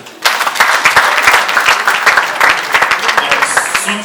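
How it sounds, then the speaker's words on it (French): An audience applauds at a charity radio trophy ceremony, loud crisp claps beginning abruptly and continuing in a dense, slightly uneven patter with a faint tone near the end. "Aidez-moi à vous applaudir."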